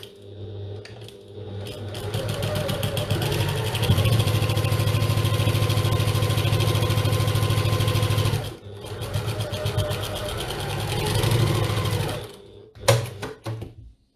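A sewing machine stitching the bottom seam of a zipped bag, a fast steady mechanical hum and needle rattle, near and continuous, with a short pause midway and brief bursts at the end, and someone speaking lightly.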